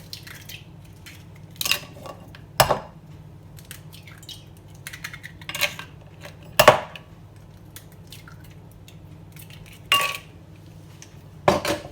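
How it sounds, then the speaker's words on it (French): Eggs are cracked one after another against a bowl, with sharp, distinct knocks spaced a few seconds apart over a quiet kitchen background. No one speaks. "Je vais casser mes œufs."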